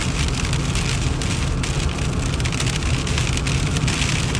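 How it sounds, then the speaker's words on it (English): Rain falling steadily on a car while driving, a dense continuous patter close by and fairly loud, with no voices. "The rain just started."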